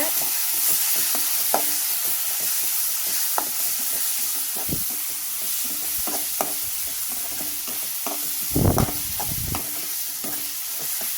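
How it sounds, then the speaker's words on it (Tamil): Tomato frying in a pan for bitter gourd tamarind curry, with a steady sizzle and repeated scraping stirs of a spoon against the pan, close and alone. "அதையும் நல்லா கிண்டி விட்டுக்கோங்க"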